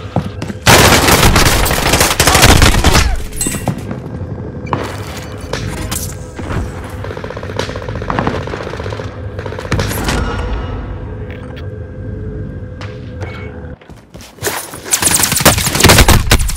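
Heavy gunfire in Call of Duty: Modern Warfare, loud automatic bursts and booming shots at the start and end, with scattered rounds and impacts through the middle.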